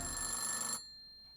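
Ringing of a rotary phone in the video game Centum, a bright trilling bell held steady for most of a second before cutting off abruptly into near silence with a faint lingering tone.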